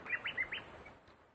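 Birds on a deserted island give a quick series of four bright chirps, fairly faint against a soft, steady outdoor background.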